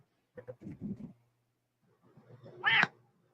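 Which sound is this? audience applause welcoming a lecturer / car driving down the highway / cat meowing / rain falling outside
cat meowing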